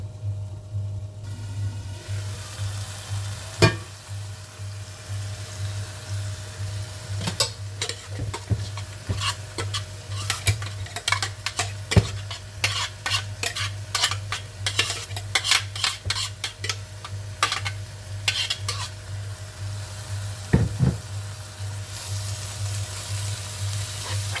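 Onion and tomatoes cook in a pan, giving a steady low sizzle with a constant hum underneath. Irregular clinks and scrapes of a utensil against the pan come through in bursts, and no one speaks.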